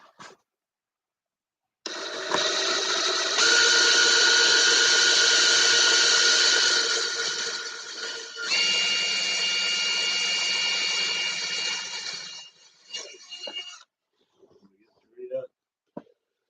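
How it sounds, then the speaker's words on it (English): A power drill bores through the leading edge of a SIG Kougar model aircraft wing under rebuild, whining steadily for about ten seconds with a shift in pitch midway, then cutting off into quiet handling noises. "I want to drill through the leading edge"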